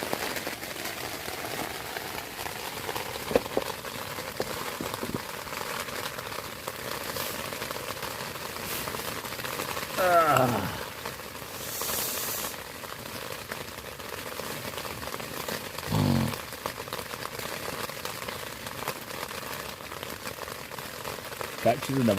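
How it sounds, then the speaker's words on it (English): Rain pattering on a tent while wild camping in Scotland, a soft continuous hiss of drops on the fabric with a few louder gusts or rustles, heard from inside. "Lying in the tent, guys, listening to the rain."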